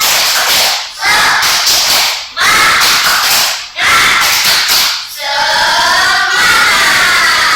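A classroom of primary school children performs a rhythmic spirit clap chant, loud sharp bursts of clapping in quick patterns broken by brief pauses, with voices chanting along in unison.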